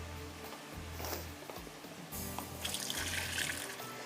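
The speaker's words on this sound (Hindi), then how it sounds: "ये पानी फेंक के राइस सिर्फ डाल रही हूँ।" Rice pouring into a cooking pot of water, heard as soft trickling and splashing with light clatter, quiet and close, with no talking.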